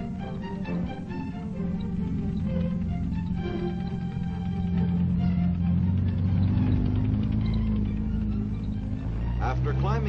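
A T-48 tank climbs a steep slope and crosses a washboard test track, giving a continuous low engine rumble with clanking and rattling. It stays steady beneath narration throughout.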